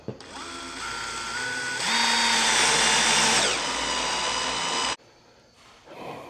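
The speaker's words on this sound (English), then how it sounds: "So I'm putting these screws on here." A power drill drives screws into 20 ft liner wall panels, its steady high motor whine revving up partway through, then cutting off abruptly near the end, loud and close.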